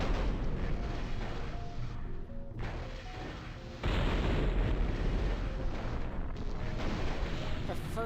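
Cannon turrets firing in the video game MechCommander Gold, heavy booming blasts rumbling loud and dense, with a brief lull before a renewed barrage, continuous across the scene.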